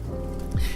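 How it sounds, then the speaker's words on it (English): Steady rain falling in a cozy video game about eating ramen at midnight, a continuous broadband hiss laid over soft music tones, with a brief low swoosh near the end. "Ooh, it's raining."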